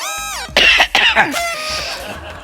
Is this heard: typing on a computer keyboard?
no